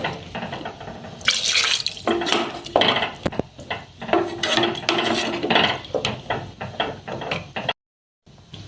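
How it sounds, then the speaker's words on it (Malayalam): Water pours and splashes into a metal pot of ghee-roasted raw rice for tomato rice in uneven bursts, with clinks of cookware in between, then a brief silence at the end. "അതിന് നമുക്ക് നാല് കപ്പ് വെള്ളം ഒഴിച്ചു കൊടുക്കാം"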